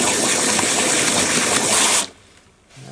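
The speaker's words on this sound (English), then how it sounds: "Give a little water so we don't burn the bottom." Water gushes steadily into a pot of whiskey mash, a loud broadband pour running for about two seconds before stopping abruptly, followed by faint quiet handling noise.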